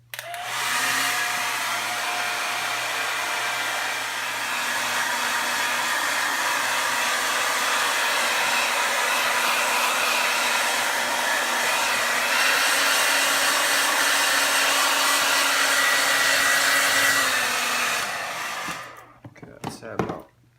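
A hair dryer blows on a wet stain, giving a loud, steady, close whooshing roar that holds for about eighteen seconds before it cuts off with a few clatters.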